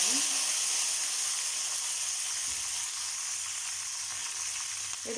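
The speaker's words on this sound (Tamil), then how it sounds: "பச்சை மிளகாய் கருவேப்பிலையும் சேர்த்துருங்க" Green chillies and curry leaves sizzle in hot oil with mustard seeds, urad dal and cumin for cabbage poriyal, a steady bright frying hiss close by that fades slightly over the clip.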